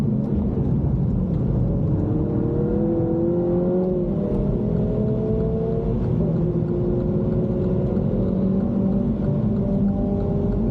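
MINI Cooper driven hard on a race track, its engine note rising and falling through gears with steady loud rumble and whine, continuous and close throughout.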